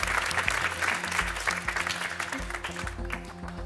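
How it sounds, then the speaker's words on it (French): Studio audience applause on a French TV game show, a steady wash of clapping over faint background music throughout. "On va vous applaudir."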